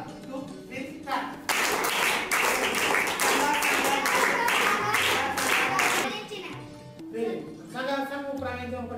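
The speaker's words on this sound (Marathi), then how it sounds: "आता सगळ्यांनी टाळ्या वाजवायच्या" Schoolchildren clap hands together in a classroom on cue, a burst of lively, dense clapping in the middle after a teacher speaks, with children's voices before and after it.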